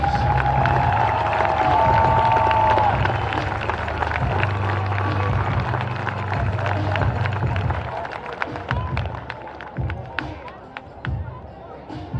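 A gym crowd at a Class A high school basketball championship applauds the all-tournament selections with steady, scattered clapping that echoes through the arena, while an announcer's voice runs over the first part.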